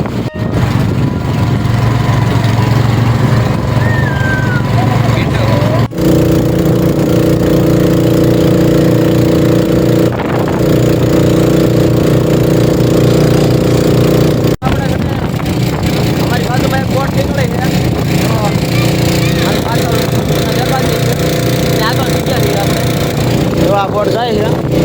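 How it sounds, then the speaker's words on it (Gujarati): A boat engine drones loud and steady as the boat moves along the river at Omkareshwar, a constant mid-pitched mechanical hum throughout, with a person talking over it. "બોટ જાય છે"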